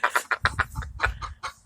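A chicken clucks in a rapid series of short, loud bursts close by, with a low rumbling background underneath and no clear talk.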